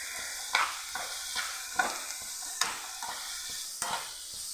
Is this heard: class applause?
no